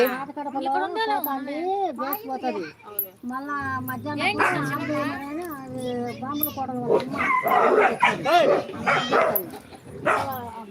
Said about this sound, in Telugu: ఇక కుక్కలు కూడా కొట్లాడుకుంటాను